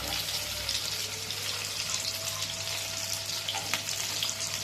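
Garlic frying in butter in a pan for white pasta, a continuous close, dense sizzle with faint stirring, heard alone without speech.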